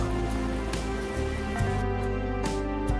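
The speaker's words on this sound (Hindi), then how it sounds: "बारिश भी तेज थी" Heavy cartoon-style rain pours down steadily, a dense continuous hiss with scattered droplet patter throughout, loud and close with no voices.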